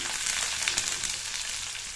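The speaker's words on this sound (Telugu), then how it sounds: "ఇప్పుడు తాలింపు పెడుతున్నాను నేను ఆయిల్ హీట్ ఎక్కింది" Loud, steady sizzling of a tempering of seeds, green chillies and onion frying in hot oil, continuous and close, with no talking.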